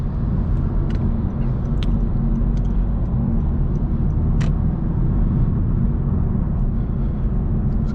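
Cabin view of a 2022 Honda Civic Sport on the road: a steady low engine and road rumble fills the interior throughout, with faint light clicks above it.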